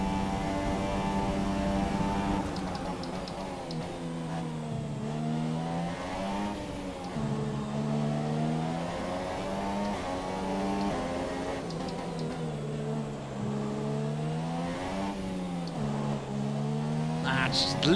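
A Formula 1 car in the F1 2017 racing game at the Russian Grand Prix, its high engine whine rising and falling steadily through gear changes as the car slides with oversteer, loud and continuous with a voice speaking over it.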